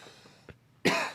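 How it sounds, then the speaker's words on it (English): A single person coughs once, a sharp loud burst after a couple of faint breathy throat sounds in an otherwise quiet setting. "I coughed."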